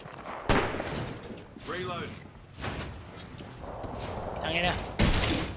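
Gunfire from a multiplayer shooter video game, with sharp shots and bursts scattered over several seconds amid game effects, while players talk throughout.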